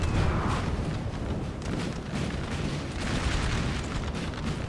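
Guard artillery firing in Napoleon Total War, a dense, continuous roar of booming cannon blasts and rumbling battle noise, loud and unbroken with no voices.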